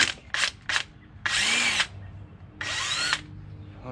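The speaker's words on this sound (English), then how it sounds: "I'm gonna use the impact to make it easy." An impact wrench loosens a brake caliper bolt on a Jeep JK during a one-ton axle swap: three short quick bursts, then two longer loud whirring runs, close up with no talk.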